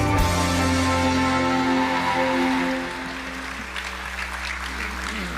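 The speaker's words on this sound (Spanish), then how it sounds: "Recibamos con un fuerte aplauso la palabra de Dios" Church congregation applauding together, a full roomy wash of clapping that starts loud and thins gradually after a few seconds, with a sustained musical tone underneath.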